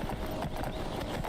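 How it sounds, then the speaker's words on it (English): A horse gallops in the Skyrim video game, hooves drumming in a close, even rhythm that carries on without pause and with no voices over it. "Horse is slowing down a bit."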